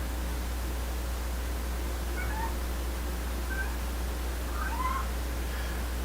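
A pet cat meows a few times, short faint calls spaced over a few seconds above a steady low hum and background hiss, with no talking.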